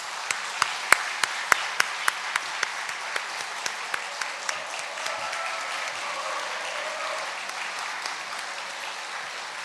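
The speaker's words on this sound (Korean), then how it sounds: "박수하시겠습니다." A church congregation at a Sunday service claps in welcome: a few sharp, close individual claps stand out early, then blend into a full, sustained round of applause that continues evenly to the end.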